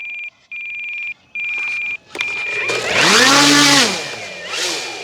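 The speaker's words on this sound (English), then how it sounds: "it's an imbalance alarm" A battery charger sounds its cell imbalance alarm in three loud, steady electronic beeps. A whining, swelling motor-like sound follows, rising and falling in pitch at close range.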